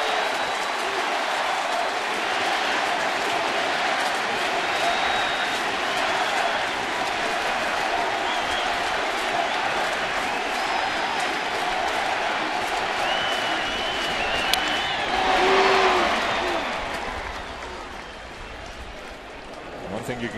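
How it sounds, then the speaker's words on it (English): Full ballpark crowd at a Dodgers game, the tying run on second in the eighth inning, keeps up a loud, steady roar of cheering and applause throughout, swelling briefly near the end before easing off. "it will be full and it will be noisy"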